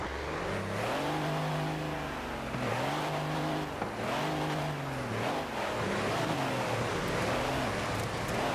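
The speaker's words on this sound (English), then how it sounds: "Is that ice? Oh yeah, that's definitely ice. I'm skidding on this shit." Car in Forza revs up and down repeatedly while sliding on ice, engine pitch rising and dropping in short surges, close and loud with no talk.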